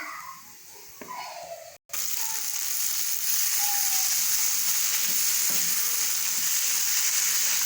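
Masala fries in a pan, a quiet clatter of stirring giving way to a loud, steady sizzle that holds after a brief break, with no voices.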